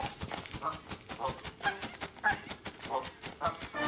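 A goose in Don't Starve Together gives a series of short, nasal honks in an uneven rhythm, fairly close, amid clattering game sounds.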